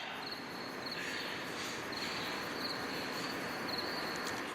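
Crickets chirp steadily in a continuous pulsing trill that repeats evenly over a dense wash of background noise, with no voices.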